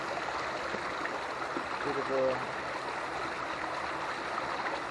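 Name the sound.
small waterfall flowing through a wall into a lake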